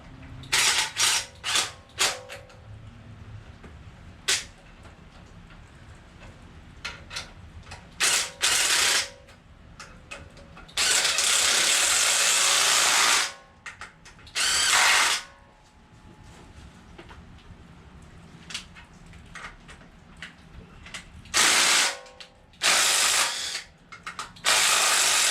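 A hand ratchet tightens bolts on the accessory drives of a 7.0 L LSX V8 engine build in the rain, giving close clicking strokes in bursts and longer runs with pauses between them, and no talking.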